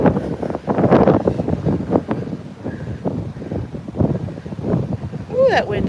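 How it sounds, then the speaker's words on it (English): Strong wind buffets the microphone while sailing near Bergen, Norway, a loud steady rush with gusty swells, as someone speaks over it intermittently. "that wind is hard. It's gonna blow me away."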